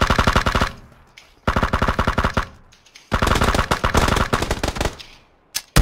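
Rapid automatic gunfire from the PUBG battle royale game, three loud sustained bursts with short gaps between them and no talking over them.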